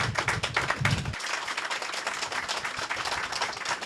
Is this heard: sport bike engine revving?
no